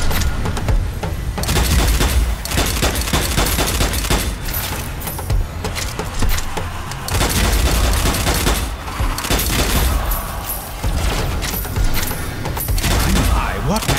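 Gunfire from the video game Strange Brigade, in loud repeated bursts of shots and booms with brief pauses between volleys, mixed with game sound effects.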